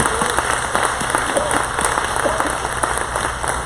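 Audience at a minority and women-owned business awards ceremony gives a steady round of applause, a dense continuous patter of many hands at moderate level, with faint voices mixed in.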